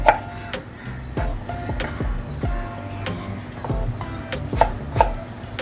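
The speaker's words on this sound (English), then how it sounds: "I find it so meditative to watch vegetables being chopped" Repeated knife strikes on a cutting board while chopping vegetables into small pieces, irregular chopping taps at close range over faint background noise.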